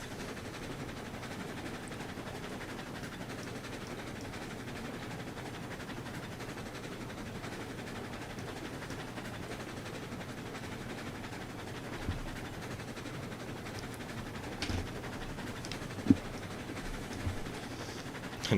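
A train rolls steadily in the Mountaineer: Coal Country video game, a low continuous rumble of wheels and engine at even, moderate loudness with a few faint clicks near the end.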